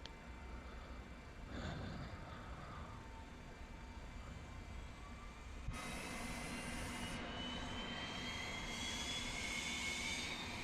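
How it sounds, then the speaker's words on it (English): Left jet engine of an MD-83 airliner spooling up on start, a rising whine with climbing tones over a steady cockpit rumble, growing louder partway through. "Start left engine. Starting left engine."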